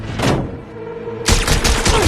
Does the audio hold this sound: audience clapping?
no